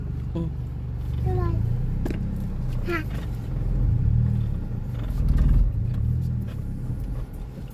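A car engine rumbles and rises as the accelerator is pressed, a low revving drone that swells and falls several times, with a voice speaking briefly over it early on.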